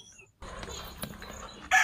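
Chickens kept under the raised platform of a goat farm in the morning, with a busy farmyard rustle and a loud rooster-like crow or cackle bursting in at the very end.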